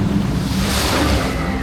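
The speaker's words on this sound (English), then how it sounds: "I've just got absolutely splashed by the boat that's come down." A log-flume boat at Paultons Park theme park plunges down and throws a heavy wash of water, giving a loud, close rush of splashing spray with wind buffeting the microphone throughout.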